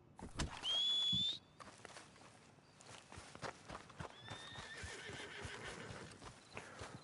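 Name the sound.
horse neighing in video game Red Dead Redemption 2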